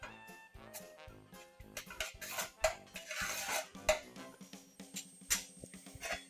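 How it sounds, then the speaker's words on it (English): A spoon scrapes and taps against a pan while turmeric and red chili powder are stirred in, giving quiet, irregular clinks and scrapes close by. "a bit of turmeric powder, some red chili powder to taste, and give it a quick stir"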